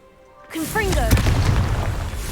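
A Confringo fire spell blast fires in the Hogwarts Legacy video game, a sudden loud burst with a rumbling boom that sustains for a couple of seconds, with a voice speaking over it.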